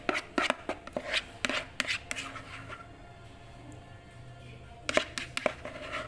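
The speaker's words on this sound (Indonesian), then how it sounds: "buat ngaduk telur sama tepungnya segitu sampai rata." Eggs and flour for steamed corn cake batter stirred by hand, rapid scraping and tapping strokes in a bowl, close and fairly quiet, pausing briefly before a final burst of stirring.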